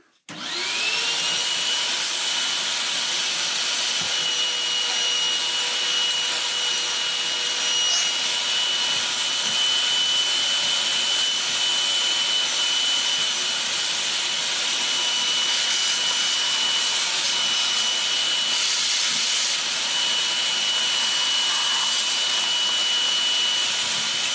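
A vacuum cleaner runs nonstop on a cleaning job where screws and metal bits had been flying around, a loud steady motor roar with a high whine, close by, with no voices.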